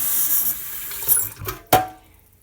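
Water pours and splashes into a pot of rice, fading off, followed by a couple of sharp knocks as the pour ends.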